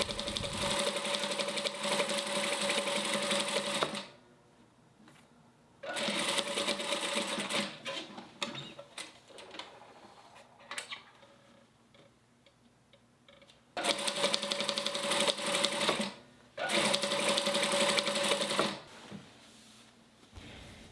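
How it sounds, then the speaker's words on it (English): A sewing machine stay stitches along the full edge of a Christmas stocking to hold the batting in place, running in several long steady bursts separated by brief pauses, close and loud with no talking. "stay stitch into place following the entire edge of your stocking"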